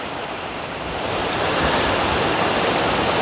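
Clear river water rushes steadily at a jungle swimming hole in Costa Rica, a dense continuous wash that swells slightly louder after the first second, close to the microphone with no talking.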